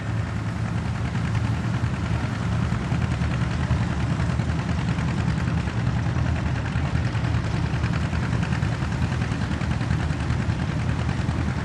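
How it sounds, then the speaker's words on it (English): A Minneapolis Moline tractor engine runs at a tractor pull, a loud, continuous low rumble with a broad, steady roar that holds without a break. "The next three tractors, all Minneapolis Moleans, and I'm telling you, these are some walking down the track tractors."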